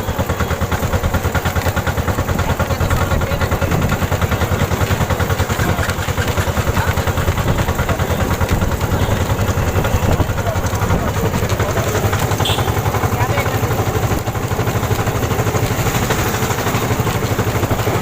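A bhotbhoti country motorboat engine runs at a river mouth, a loud, steady chugging drone with constant clattery texture that holds unbroken from start to finish.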